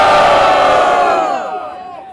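At a rap battle semifinal in Botafogo, a crowd roars and cheers for a rapper, a loud sustained wall of shouting voices that gradually tapers off toward the end.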